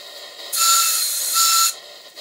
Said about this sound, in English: Now the whistle is louder than the Chuff pot.